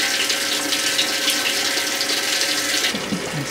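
Hot water runs steadily from a tap as it fills up, a loud, constant hiss and rush that eases slightly near the end.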